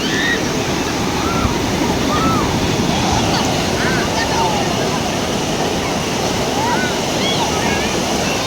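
Ocean waves break and surge steadily onto a beach, a continuous loud roar of surf with wind noise across the microphone and no pauses.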